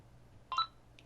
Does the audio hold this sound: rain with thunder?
no